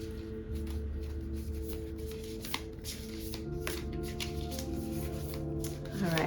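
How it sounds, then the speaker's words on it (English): A deck of oracle cards is shuffled by hand, giving soft, continuous riffling and papery slaps at close range, quiet and steady, with a voice talking faintly now and then. "I shuffled these already, but we're going to shuffle again."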